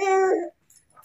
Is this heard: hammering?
no